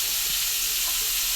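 Beetroot stir-frying in a hot pan while making a green lima bean kara kuzhambu, a steady bright sizzling hiss throughout with soft stirring scrapes.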